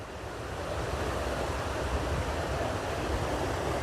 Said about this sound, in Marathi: पूर्ण डॅमचं पाणी इकडनं उतरतं खाली